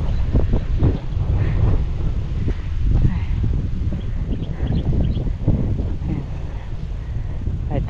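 Wind gusts across an open field on a hot day, giving a heavy, continuous rumbling roar from buffeting on the microphone, loud and unbroken, with voices faintly audible under it.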